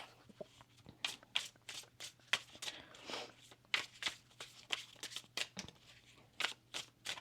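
Tarot cards being shuffled by hand, a series of crisp riffling bursts in an irregular rhythm, close and fairly quiet against a low steady hum.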